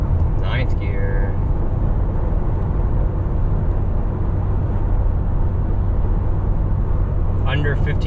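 A truck cruising in ninth gear below 1500 RPM while towing, giving a steady low engine drone and road rumble that fill the whole stretch, with brief voice sounds near the start and end.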